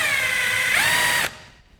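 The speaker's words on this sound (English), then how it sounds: "we're going to remove the bolt that secures the lower control arm to the bearing carrier" Loud, steady whine of a power tool running on a 21 mm bolt at the lower control arm and bearing carrier of a Tesla Model 3's suspension, holding for over a second before cutting off abruptly, close up and with no voices.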